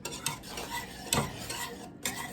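A whisk stirs a thickening sauce for scallop ravioli in a pan, a soft, quiet swishing with a few light clinks of metal against the pan, close and without talk.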